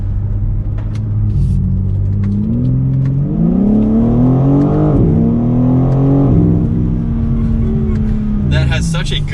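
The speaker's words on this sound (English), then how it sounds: "That has such a good sounding exhaust." A 2022 BMW M4 Competition xDrive's exhaust rumbles and revs, the engine note climbing and dropping with a deep throaty growl, loud and close, ending in a sharp crackle.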